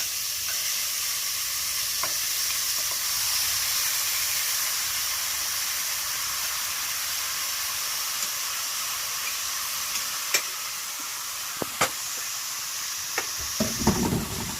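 Pork bones sizzle steadily in a hot pot for a Filipino nilaga, a constant close frying hiss with a few sharp clicks and spatters toward the end.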